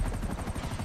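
Steady low thudding rotor chop of a helicopter in the video game GTA 5 Online, continuous and fairly loud, with a faint higher whine above it.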